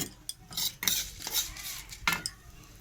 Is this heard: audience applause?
no